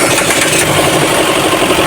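A 2023 Mitsubishi Xpander engine running steadily at a constant rumble, sounding like an idle right after starting, with no voices.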